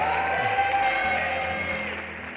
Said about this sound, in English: Please give her a very big round of applause.